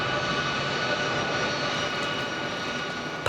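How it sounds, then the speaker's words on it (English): An RAF C-17 long-range cargo aircraft of 99 Squadron at RAF Brize Norton sounds as a steady, loud engine drone with a humming tonal whine, unbroken throughout. "the RAF's biggest and fastest long-range cargo aircraft"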